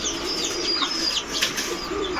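Female pigeons flap and flutter in quick, close bursts of wingbeats and scuffling as they are caught one by one, with faint chirps.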